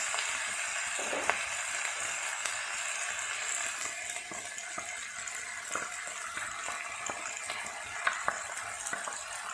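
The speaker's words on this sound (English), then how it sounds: "It's time to add the pasta and the white sauce" Pasta is stirred into white sauce in a pan, with a soft wet sizzle and occasional scraping clicks of a utensil, close by.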